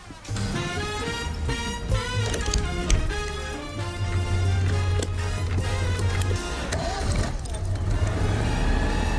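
A 1978 Citroën 2CV pulls away with its small engine droning steadily and rising in pitch, heard from inside the cramped cabin with rattles and clunks throughout.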